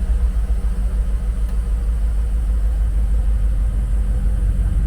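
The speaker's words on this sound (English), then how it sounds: "Sounds like my fan's still making some noise" Ford F-150 air-conditioning blower fan running with a steady whooshing drone layered over a low engine idle rumble, continuous and close with no talking.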